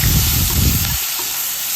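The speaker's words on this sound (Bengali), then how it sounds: "এখন তেলে দিয়ে দেবো পেঁয়াজ কুচি, দিয়ে পেঁয়াজটা একটু ভেজে নিয়ে দিয়ে দেবো মরিচ বাটা।" Chopped onions fry in hot oil for a catfish curry: a steady, close sizzling hiss throughout, with a heavier rustling burst during the first second as the onions go in.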